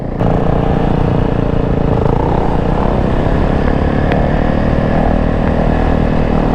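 A 2020 Yamaha YZ450F dirt bike engine runs loud and steady, a continuous throaty drone that holds at nearly the same pitch throughout with slight surges, close by and alone without talk.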